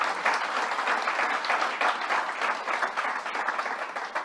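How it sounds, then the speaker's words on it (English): An audience at a governor's bill-signing event applauds steadily, a dense wash of many hands clapping with no voices over it for a few seconds. "Let's give them a round of applause."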